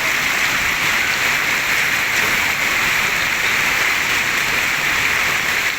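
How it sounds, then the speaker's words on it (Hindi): Heavy rain pouring down in a storm with hail in Bahria Town, Rawalpindi, a dense, steady hiss of downpour at constant loudness throughout, no voices. "ये सारा बारिश का पानी है। शदीद बारिश हो रही है,"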